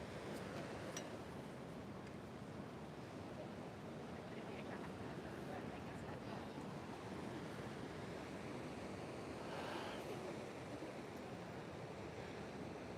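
Ocean waves wash steadily onto an oceanfront shore, a faint, continuous rushing surf mixed with wind noise, with one slightly stronger swell later on.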